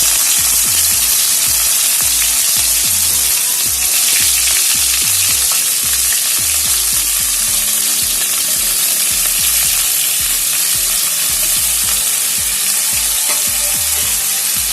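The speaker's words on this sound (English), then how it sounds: "And you can see it's already starting to sizzle and burn. So when that happens, we'll add in the potatoes and the cauliflower." Potatoes and cauliflower sizzle and fry in a pan of hot oil for a savoury breakfast porridge, a loud steady crackling hiss with stirring scrapes throughout, close and without talk.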